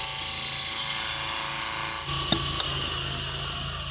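A gouge cuts square-sided stock on a wood lathe, taking light cuts for a chain ornament: a steady broadband shaving hiss that drops off midway, followed by a couple of brief taps, close and fairly loud with no talking.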